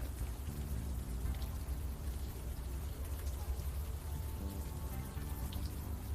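Steady rain in the video game Unavowed, a dense continuous patter of drops and wash of water at an even level throughout, with no voices.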